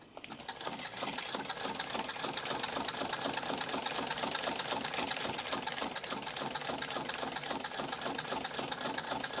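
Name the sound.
1898 Singer 28-2 sewing machine winding thread onto the spool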